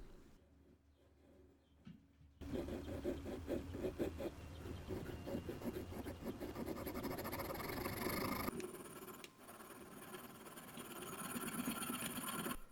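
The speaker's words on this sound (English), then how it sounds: "Now comes one of the more delicate parts, starting the cuts for the joints." Freehand hand sawing of joints into a wooden swimbait body, a close, steady rasping back-and-forth stroke that starts after a couple of seconds of near silence and continues with brief pauses.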